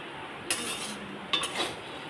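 Fried rice stirred with nutmeg powder in a pan: two brief metallic clinks of the utensil against the pan over a faint, steady hiss, quiet and close.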